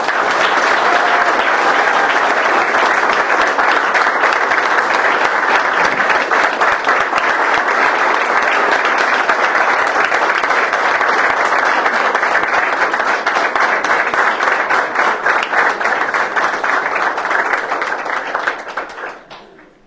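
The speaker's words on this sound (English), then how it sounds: "And let's have a round of applause, please, for the family members." At a city council meeting, the audience breaks into long, loud, steady applause after newly sworn police officers take their oath, a dense wall of clapping that fades away only at the very end.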